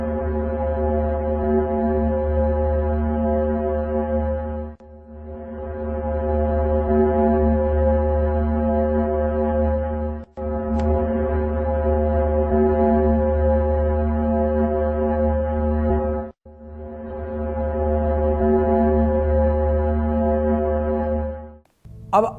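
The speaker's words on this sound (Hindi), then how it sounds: "शुक्र की आवाज़ देखिए, उसमें शांति, स्थायित्व और किस तरह की बात है" A steady, low droning hum presented as a recording of the planet Venus, sustained and loud in long unbroken stretches with brief gaps, like a deep organ-like tone.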